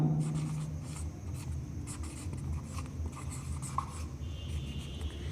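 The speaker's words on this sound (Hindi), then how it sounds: "तो यहां पे मैं लिख दे रहा हूं किबुथु, ठीक है ना, यहां लिख दे रहा हूं।" Chalk or marker scratching across a board as a geography teacher writes in a classroom, continuous close rubbing strokes with short taps over a low room hum.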